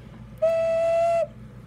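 A handmade clay ocarina whistle sounds one clear, steady, sustained note lasting nearly a second, close and alone against a quiet room.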